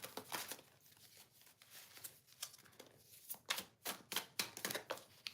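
A deck of playing cards is shuffled by hand at close range, with quiet crisp riffles and snaps coming in uneven bursts that grow busier toward the end, alone and with no talking.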